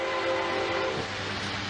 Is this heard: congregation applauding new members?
no